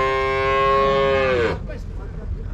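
A cow at a cattle market in Uzynagash gives one long, loud, close moo that lasts about a second and a half and then trails off into the market's background noise.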